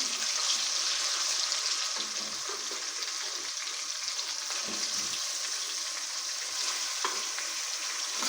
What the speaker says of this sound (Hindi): चिकन हमारा फ्राई होना स्टार्ट हो गया है।